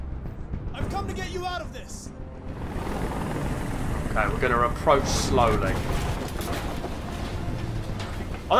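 Helicopter rotor drone from the Detroit Become Human hostage rooftop scene, a steady low broadband thrum filling the whole stretch beneath intermittent speech.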